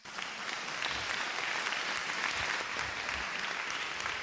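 A hall audience applauds to welcome a guru onto the stage, producing dense, sustained clapping that fills the room evenly for several seconds without a break.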